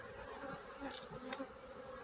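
Honey bees buzz steadily around a hive, a dense close-up drone that holds throughout with individual bees swelling briefly louder as they pass near.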